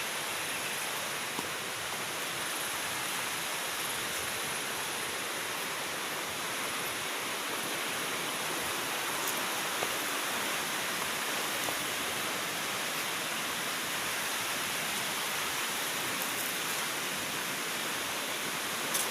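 Steady broadband rush of flowing river water, constant and unbroken throughout, with no voices.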